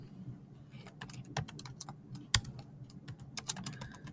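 Rapid, uneven clatter of keys on a computer keyboard, close and clear, with bursts of quick strokes and brief pauses and one sharper tap midway, no voices.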